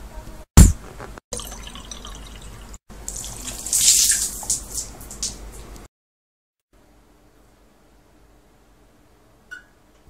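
A household tap is turned on with a click and water gushes into a sink for a few seconds, splashing loudly, then shuts off, leaving near silence and a faint drip.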